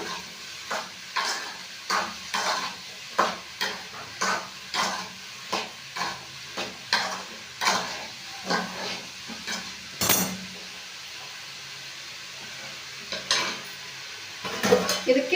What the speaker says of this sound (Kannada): ಇದು ಸ್ವಲ್ಪ ಎಣ್ಣೆಯಲ್ಲೇ ಫ್ರೈ ಆಗಬೇಕು